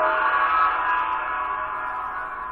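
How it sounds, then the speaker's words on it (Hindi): A gong sound effect played back from MATLAB's built-in audio samples: a loud, sustained shimmering metallic tone that rings for the full two and a half seconds, fading only slightly toward the end. "अब इसको करवाता हूँ गोंग"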